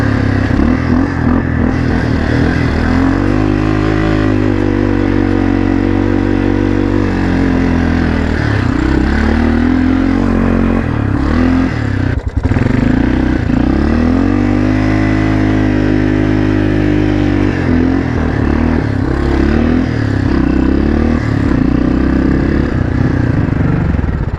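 A small four-wheeler ATV, worn and smoking heavily, holds a loud, steady high rev that bounces against the rev limiter in a choppy stutter, with a few brief dips and climbs back to the limiter throughout.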